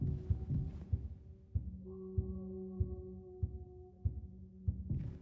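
Low, pounding heartbeat-like thuds in a video game repeat at a steady rhythm of roughly one beat every half second over a sustained hum and tonal drone, fairly quiet and with no talking.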